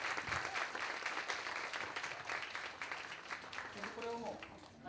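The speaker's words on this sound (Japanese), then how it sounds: "ではどうぞ皆さん拍手でお迎えください" An audience welcomes a speaker to the stage with sustained clapping that fills the room, quiet overall, and a voice speaks briefly near the end.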